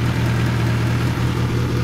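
A modified 1984 Toyota Corolla Levin AE86 engine idles close by with the hood open, a loud, steady, slightly lumpy drone with a brief small dip midway.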